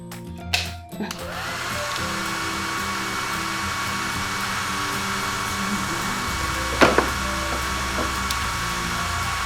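A hair dryer blows on a child's hair at home, switching on after a few brief knocks and then holding a steady, fairly loud whirring hiss, with a couple of small clatters partway through.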